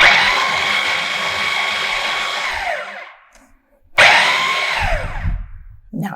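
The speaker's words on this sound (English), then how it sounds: "Now let's take this processor and let's mix everything together." A food processor whirs loudly as it blends zucchini pesto, running in two pulses with a high motor whine that winds down between bursts, close and dominant.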